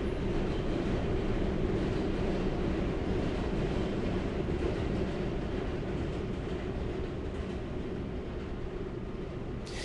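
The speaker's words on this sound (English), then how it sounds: "Ah, J Train." J Train subway train passing, a loud, continuous heavy rumble and roar that holds steady for about ten seconds, close by.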